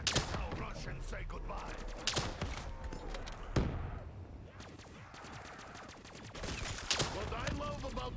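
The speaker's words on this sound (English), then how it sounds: "I'm gonna smash out the rest of this ammo in this launcher here" Launcher fire in a Call of Duty zombies match on the remastered Der Riese map: repeated sharp blasts and thuds hit in quick bursts over a steady bed of game noise, with players talking over the action.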